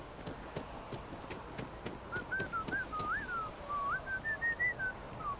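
A person whistles a wandering, tuneful melody over the steady ambient sound of a Starfield game session, the whistle starting partway through and continuing in short rising and falling phrases until the end.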